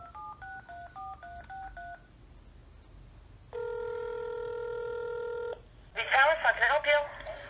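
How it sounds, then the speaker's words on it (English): Telephone keypad tones beep in a quick series of dialed digits, then a steady ringback tone sounds, and a voice begins speaking after it. "I'm dialing them up right now"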